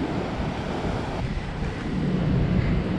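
Ocean surf breaking at Uluwatu, Bali, a continuous broad roar of waves with wind buffeting the microphone, swelling slightly louder toward the end, no voices.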